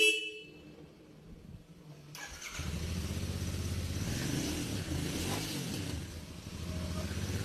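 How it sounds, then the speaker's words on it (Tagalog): A Royal Enfield Interceptor 650 that had refused to start cranks briefly and then catches, settling into a steady, rumbling idle with slight revving. "At ito na nga, napaandar na natin yung motor"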